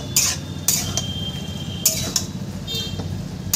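A spoon scrapes and clinks against a pan while stirring a leafy greens curry, several sharp metallic strokes over a low soft simmer, close and without voices.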